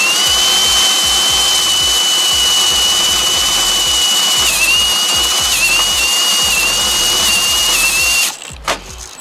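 A loud, sustained high-pitched hand drill whine grinds continuously through metal outdoors for several seconds with a slight wavering pitch, then stops abruptly.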